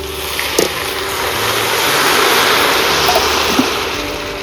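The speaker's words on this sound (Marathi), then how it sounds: "तर मी आता ह्या फोडणी घातलेल्या अळवात पाणी ओतते" Water poured into a pot of tempered taro leaves (alu) cooking over a village wood-fired stove for Malvani-style taro curry, a steady rushing, splashing pour that swells and fades over several seconds with no talk.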